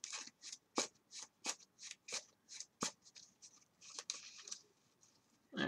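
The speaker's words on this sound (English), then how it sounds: "Get a good shuffle here." A deck of trading cards is riffle-shuffled by hand several times, giving quick crisp fluttering bursts with brief pauses between them, close and soft.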